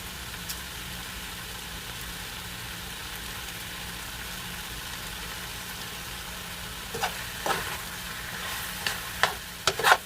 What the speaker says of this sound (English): Let's wait 5 minutes or until the ground pork will totally turn brown.